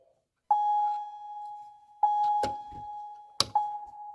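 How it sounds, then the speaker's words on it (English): A security alarm system sounds a steady electronic tone that switches on with a click, then restarts twice, broken by sharp clicks and knocks; moderately close, with no voices. "flip that switch and hear the alarms go off"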